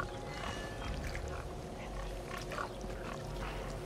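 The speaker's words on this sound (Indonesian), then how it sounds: "Babi itu babi." Pig grunting in the video game Resident Evil 4 Remake, low rough snorts and grunts repeating faintly over a busy game background.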